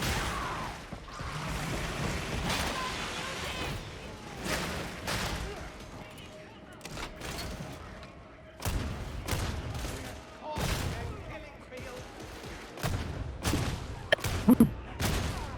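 Bolter gunfire in Warhammer 40,000: Darktide, heavy bursts of shots crashing in repeatedly over a busy battle din, close and loud, with a voice talking throughout.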